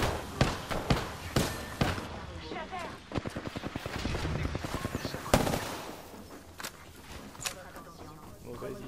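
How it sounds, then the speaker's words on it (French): Rapid gunfire from the battle royale game Apex Legends: sharp single shots at first, then a tight automatic burst and scattered follow-up cracks, fairly close, with game effects between. "J'ouvre le feu."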